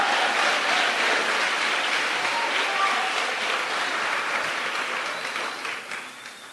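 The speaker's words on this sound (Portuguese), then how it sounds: "Pode dar o seu melhor aplauso a Ele" Church congregation giving sustained, dense applause in a large room, steady and fairly loud, tapering slightly toward the end, with faint voices mixed in.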